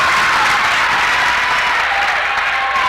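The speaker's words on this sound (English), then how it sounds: "The Sidney crowd has come to life." A high school basketball crowd in a gym roars and claps at a Sidney game. The noise is loud and sustained, a dense wash of cheering and applause with no break.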